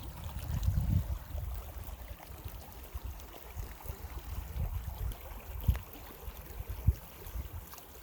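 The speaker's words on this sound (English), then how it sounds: "This little creek is lovely." A small creek along a backpacking trail in Wyoming's Cirque of Towers area gurgles and rushes steadily nearby, low watery turbulence with occasional splashy bumps, no voices.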